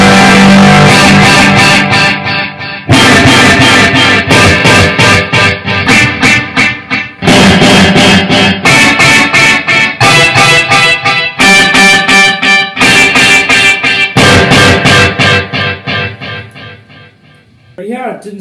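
An electric guitar plays distorted chords and riffs through an amp with an effect in the effects loop, loud and close in bursts separated by brief pauses, ending in a fading ring.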